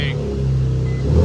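A Nissan 350Z with a freshly welded exhaust, its rattle repaired, rumbles deep and loud up close, the engine note climbing into a rev at the end.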